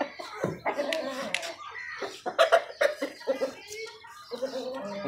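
Clucking Aseel chicken sounds, short irregular calls close by, with a voice talking over parts of it.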